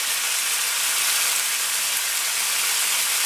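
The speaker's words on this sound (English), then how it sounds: "You hear that sizzle?" A T-bone steak sears on a hot grill, a loud, steady, broadband sizzle and hiss continuing without pause, close up and with no talking.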